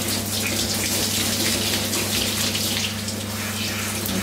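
Tap water runs steadily during a hair rinse for 4B natural hair, a close, continuous splashing gush with a low pump-like hum beneath and no voices.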